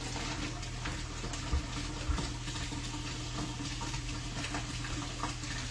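Tap water runs steadily as a corned beef brisket is rinsed in a kitchen sink, a constant hissing flow with a couple of light knocks against the basin and no talking.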